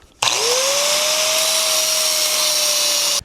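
An electric power tool spins up and cuts steadily through the top of a metal distributor shaft being made into an AMC oil pump priming tool, a loud sustained whine with a rising pitch at the start, close up.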